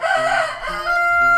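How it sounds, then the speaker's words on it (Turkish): A rooster on a farm lets out one loud, close crow that rises and holds a drawn-out final note, clear and alone without speech. "Horoz işte bu."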